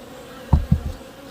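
Honeybees on hive frames, checked before winter while being moved from a styrofoam hive into a wooden one, make a steady close buzz with three low thumps in quick succession and no voices.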